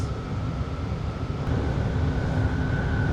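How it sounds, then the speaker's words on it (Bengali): A BART train riding toward Milpitas station in Fremont, California, heard as a steady, close interior rumble with a thin high whine running throughout and a slight lift in level halfway through; no talking. "আপনাদের দেখিয়ে দিলাম বার্ড, এই ট্রেনটা"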